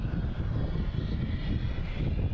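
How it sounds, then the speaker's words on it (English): An Embraer E175 takes off from Boston Logan bound for Philadelphia, a steady low engine rumble with fluttering texture, moderately loud and continuous for a couple of seconds. "Philly special, E175, heading to Philadelphia"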